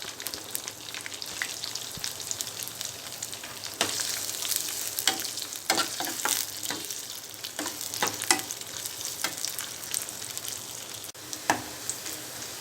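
Dried chillies, onion pieces and curry leaves frying in hot oil with cumin and mustard seeds for pepper rasam, a loud continuous sizzle with frequent crackles and stirring clicks, close up.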